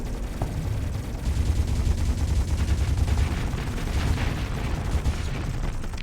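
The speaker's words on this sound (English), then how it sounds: "It's built to bring these two cannons into the fight." Heavy cannon fire from an artillery ship in the space combat game Starsector, a dense run of booming gunfire blasts that stays loud and continuous throughout, with no talking.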